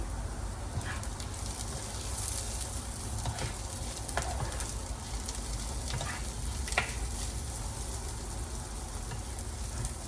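Potatoes frying in a pan with cut peppers and chili give a steady, loud sizzle throughout, with occasional stirring scrapes and crackles and no talking.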